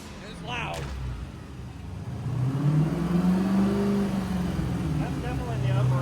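A damaged Dodge Challenger Hellcat engine revs up from a moderate idle into a louder, rougher, sustained rumble, with a brief slam at the start and a voice heard under it.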